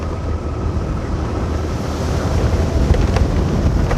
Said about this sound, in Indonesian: Angin di sini benar-benar sangat kencang ya.